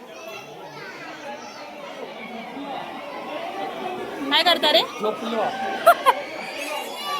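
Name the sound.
crowd and children chattering at a zoo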